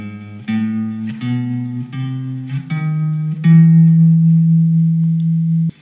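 A guitar plays a busy ii-V-I bass line, walking between chord tones with half-step approach notes; clean, sustained single notes step through in a steady rhythm, the last ringing out longer.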